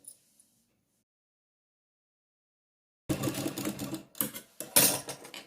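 Sewing machine stitching right along the edge of a turned salwar hem, a close rattling whir that starts after a few seconds of silence and runs in short bursts with brief pauses.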